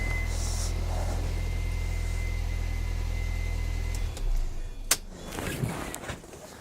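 A car's failing power steering pump groans and whines steadily as the wheel is turned near full lock, a loud sustained drone that cuts off after about four seconds, followed by a few clicks and light handling sounds.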